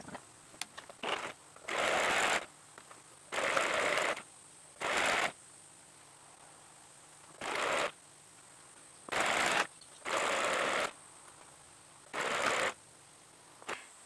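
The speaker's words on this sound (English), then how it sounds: "use our quarter inch seam allowance and sew all the way down" Sewing machine stitching quilt pieces from a bunting panel with a quarter-inch seam, repeated even bursts of fast rhythmic needle chatter lasting a second or so, separated by short quiet gaps, close and alone.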